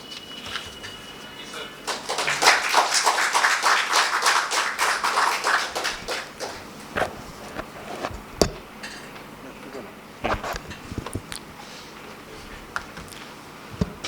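An audience at a seminar on wills, trusts and succession planning applauds the speaker, a dense clapping swell that fades after a few seconds, leaving scattered single claps and taps in a quiet room.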